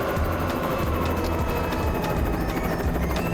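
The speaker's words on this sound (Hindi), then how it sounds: "वो हेलीकॉप्टर आ गया।" A loud, continuous cartoon helicopter rotor thrum with rhythmic chopping, staying close and steady throughout.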